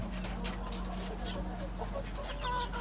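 Chickens cluck on a rooftop farm, close and steady over a low continuous hum, with a few brief overlapping calls.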